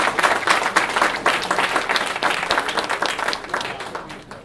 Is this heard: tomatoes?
no